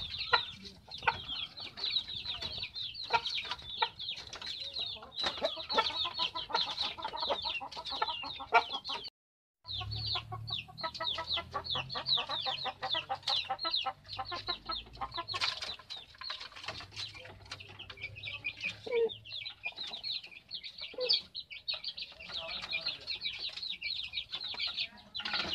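Backyard chickens cluck and chatter steadily during feeding, a busy flock of overlapping close calls with soft wing flaps and a brief pause midway.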